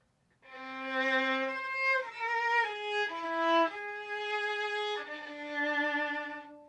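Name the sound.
tune played in whole tones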